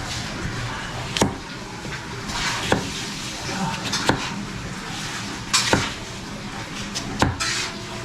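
Potatoes being stirred in a cooking pot for a Christmas Eve meal, with sharp metallic clinks of utensil on pot recurring every second or so over a busy kitchen background.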